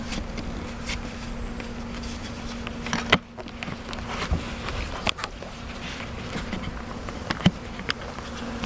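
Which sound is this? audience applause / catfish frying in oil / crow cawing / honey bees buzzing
honey bees buzzing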